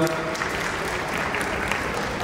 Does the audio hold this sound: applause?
yes